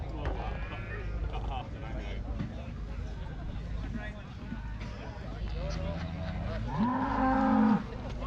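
Cattle being judged at the Kirriemuir agricultural show in Scotland low and moo amid a noisy crowd, with one long, loud moo rising near the end over background chatter.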